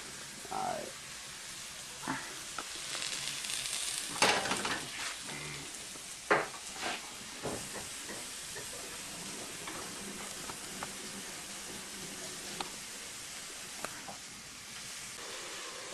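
Vegetables fry in a pan with a soft, steady sizzle, broken by scattered sharp clicks and scrapes of utensils against the pan, fairly quiet overall.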